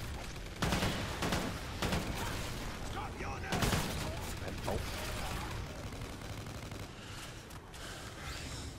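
Skorpion submachine gun fire in the video game Extinction: Point of Contact, rapid bursts of shots rattling at steady volume, with a voice talking over the gunfire.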